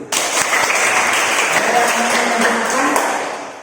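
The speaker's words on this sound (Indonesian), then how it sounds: "Ya, tepuk tangan dulu" Applause from a school class, a dense burst of many hands clapping together at close range, steady throughout and tapering at the end, with voices faintly beneath.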